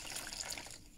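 Water splashes and trickles briefly as a cloth is rinsed during a partial bed bath, a soft close wet gush lasting about a second.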